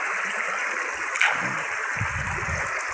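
Water flowing steadily along a rural stream or canal, a continuous broad rushing wash at close range with a few low gurgles and splashes underneath, no voices over it.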